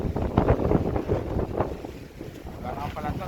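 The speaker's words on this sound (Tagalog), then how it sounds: "grabe ang hangin" Strong wind buffeting a fishing boat at sea, a loud gusty roar with rough low rumble that rises and falls.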